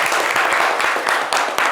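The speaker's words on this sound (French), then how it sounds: "Applaudissez votre ami fort." Studio audience at a French radio-style game show applauding a contestant, a steady dense wash of clapping with sharper individual claps standing out throughout.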